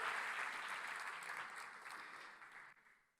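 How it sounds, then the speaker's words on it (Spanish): A church congregation applauds together, a brief burst of clapping that fades away over a few seconds, heard faintly at a distance. "Vamos a dar un aplauso fuerte al Señor."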